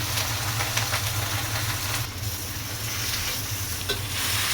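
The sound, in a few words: vegetables stir-fried with a spatula in a wok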